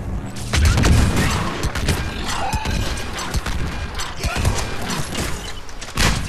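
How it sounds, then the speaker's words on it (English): Grenade blasts and gunfire from a Mass Effect 3 battle, a loud dense stretch of booms, thuds and crackling shots running continuously throughout with no clear pauses. "Hit it with overload and hit it with the freaking grenade."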